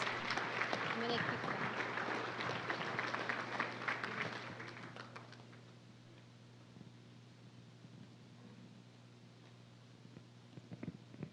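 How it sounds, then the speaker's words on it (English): Audience applause for TSA students at a family business center 30th anniversary celebration, a dense wash of clapping in the first four seconds that fades to a low hum of room noise, with a faint late clap. "Give them another round of applause"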